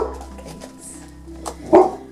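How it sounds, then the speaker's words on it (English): A single dog bark sounds once near the end, fairly close and loud, over quiet room background during an indoor holiday gift game. "Oh, there goes the dog."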